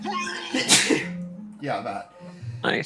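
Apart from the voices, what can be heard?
sneeze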